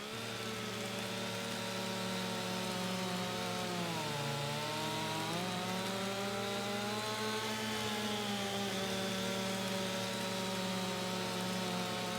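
A chainsaw cuts through very hard wood in a logging video game, running at a steady whining drone whose pitch dips and recovers under load for several seconds, with no voices.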